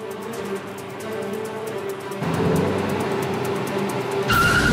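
A Ferrari race car at the start of a two-lap head-to-head duel in Abu Dhabi, a loud sustained engine roar that swells as it pulls away, with a higher engine note cutting in near the end.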